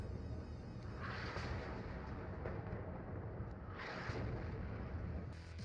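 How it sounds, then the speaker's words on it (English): Artillery counter-battery fire in the WARNO real-time strategy game, a steady rumbling wash of distant guns with a few brighter bursts swelling through it, continuous and fairly even in loudness. "Now I start shooting, counter-battering the enemy artillery in the north, way back here."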